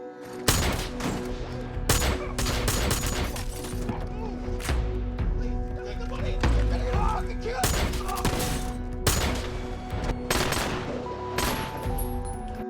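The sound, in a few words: gunfire in a film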